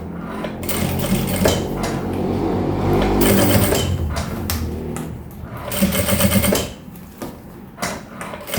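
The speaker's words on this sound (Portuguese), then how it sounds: "Passando a costura." A domestic sewing machine runs in bursts, stitching the seam of a small suitcase-style zippered pouch, with a brief pause between runs and loud, close mechanical whirring and clatter.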